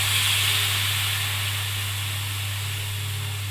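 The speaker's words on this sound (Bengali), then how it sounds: "জল দিয়ে দিচ্ছি।" Water poured into a hot pan of pumpkin greens with ground mustard paste, salt and turmeric gives off a steady, loud steaming hiss over a low constant hum, with no one speaking.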